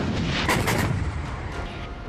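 An Indian Army tank fires its cannon, producing a loud, heavy boom that rolls on as a sustained roaring rumble outdoors.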